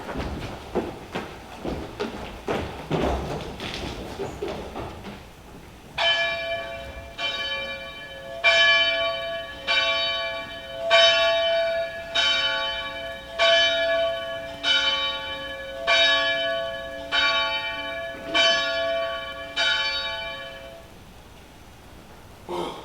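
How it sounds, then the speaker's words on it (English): Windsor church bell strikes twelve, slow evenly spaced ringing tolls with a long resonant hum, preceded by a few seconds of clattering rustle; clear and fairly close. "The Windsor bell has struck 12."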